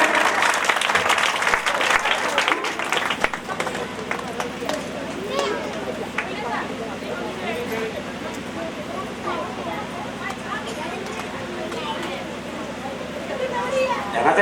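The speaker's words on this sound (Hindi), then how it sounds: "सुलोचना एक बार जोरदार ताली।" Loud, sustained clapping from a religious discourse audience on a Sulochana–Mandodari dialogue, dense and steady throughout with crowd babble mixed in.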